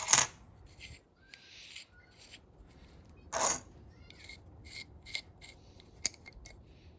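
Removing the retaining ring from an old half-inch ratchet, such as a J.H. Williams, Craftsman or Plomb: sparse sharp metallic clicks, scrapes and a couple of louder clinks of small metal parts, close by with quiet gaps between.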